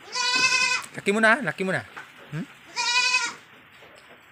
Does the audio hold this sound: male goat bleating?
yes